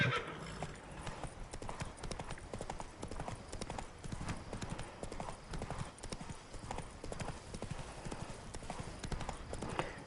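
Horse hooves galloping at full charge in the video game Witcher 3: Wild Hunt, a fast, steady clip-clop rhythm that is close and loud, with a neigh or whinny and game ambience under it.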